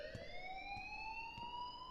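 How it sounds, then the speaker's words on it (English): A rising electronic alarm tone rings steadily in the video game Life is Strange, a continuous multi-pitched wail that sweeps slowly upward, fairly loud and alone with faint background. "please turn off that alarm since that's your job"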